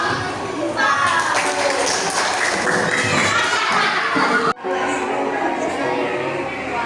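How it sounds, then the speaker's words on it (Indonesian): Classroom clapping for a group of students coming to the front, a dense, sustained patter of many hands with children's voices mixed in, steady for several seconds before a brief dropout, then continuing more faintly. "tepuk tangan untuk kelompok"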